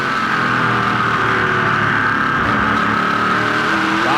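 A loud, sustained race car engine roars at high revs on a short oval track, with a steady drone and slight pitch shifts as the car works through a corner, during a 2010 A&W Cruisin' The Dub 300 race.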